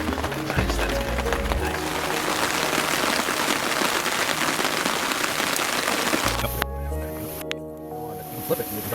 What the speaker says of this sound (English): All that was really left was to listen to the rain